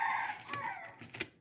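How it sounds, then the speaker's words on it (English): A backyard chicken next door clucks and calls in short bursts, a few sharp squawks standing out near the end, heard from a middle distance with no talk over it. "that is my neighbor's chicken"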